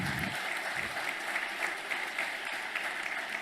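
Steady applause from a crowd at a speech by Javier Milei, dense clapping that continues evenly throughout without a break.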